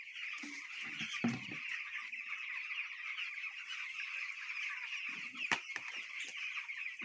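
Broiler chickens in a poultry farm shed make a steady, crowded mass of soft clucking and chirping at moderate distance, with a few brief knocks and thumps of handling mixed in and no talk.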